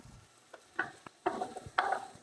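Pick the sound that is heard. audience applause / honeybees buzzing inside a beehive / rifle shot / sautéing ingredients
sautéing ingredients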